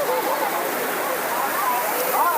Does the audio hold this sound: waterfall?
yes